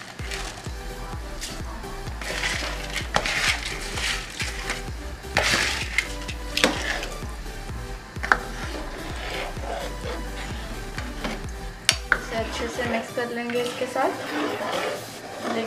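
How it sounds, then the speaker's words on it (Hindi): Soaked basmati rice is stirred in a pot of boiling water for chicken tehari, giving scattered soft scrapes and knocks against the pot under a busy, continuous background. "लेकिन आप बहुत ज़ोर से मत हिलाइएगा क्योंकि जो चावल है वो भीगे हुए हैं तो टूट सकते हैं"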